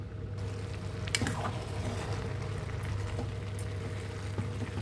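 Vegetable biryani rice simmering in a pot on the stove, a soft steady bubbling and faint sizzle holding close and even throughout, with a low hum underneath and no voices.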